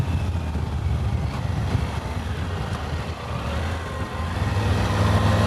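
Triumph Tiger 900 adventure motorcycle riding along, a continuous low engine drone with steady road and wind rush, fairly loud and even throughout.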